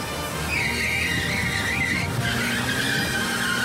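A car skids and squeals under hard braking on approach to a ramp during a driving test, a loud, sustained tyre screech that wavers in pitch over engine and road rumble, with no talk.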